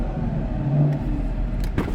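A 2019 Chevrolet Camaro 2SS 1LE's V8 idles steadily nearby with a deep, continuous rumble that holds throughout, with no talking.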